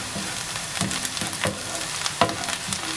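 Ginger-garlic paste with turmeric sautés in a hot pan, a close, steady sizzle punctuated by quick scrapes and taps of a spoon being stirred through it.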